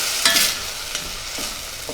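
White wine poured into a hot pan with shrimp sizzles and hisses steadily at close range, with a few soft stirring scrapes and taps.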